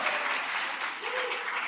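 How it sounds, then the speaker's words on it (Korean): Dense, loud applause from a church congregation at a Friday worship service fills the whole moment, a continuous wash of clapping with a faint voice underneath. "박수 한번 크게 해주세요. 크게 해주세요."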